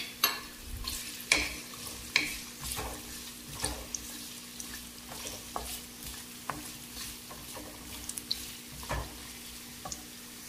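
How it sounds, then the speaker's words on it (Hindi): Carrots stir-fried in hot oil for a restaurant-style mixed vegetable dish, a steady low sizzle broken by sharp scraping and clacking strokes of a spoon against the pan, louder in the first seconds, with no talking. "तेल जो है वो हमारा गर्म हो चुका है, तो अब हम इसमें वेजिटेबल्स को ऐड करेंगे। सबसे पहले जाएंगे इसमें कैरेट, इसको हम फ्राई कर लेंगे थोड़ा सा।"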